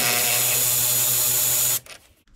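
A power tool whirs steadily and loudly while backing out a T30 Torx screw on a Ford Fusion headlight, running unbroken for nearly two seconds, then stopping abruptly and leaving faint handling noise.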